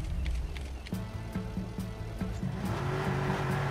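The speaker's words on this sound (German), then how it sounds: "fahr ich mal hier mit dem Wagen weg" A car in the Watch Dogs game revs and pulls away, its engine droning loudly and steadily with rhythmic mechanical pulses that build as it drives off.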